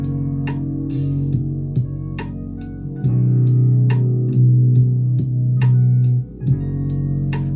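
A deep, sustained bassline played on SP-404 MkII sampler pads runs under crisp, regular percussive hits, with notes shifting every second or so in a steady groove.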